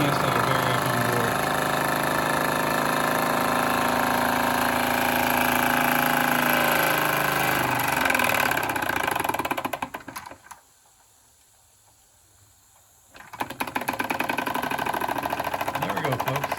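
A Wilesco D20EL live steam engine with a 110 V built-in variac runs steadily with a busy mechanical clatter, then goes nearly silent for about three seconds before the running noise resumes.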